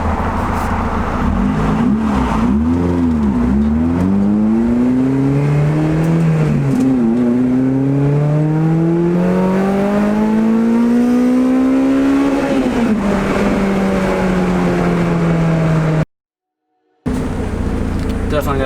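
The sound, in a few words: car driving, engine running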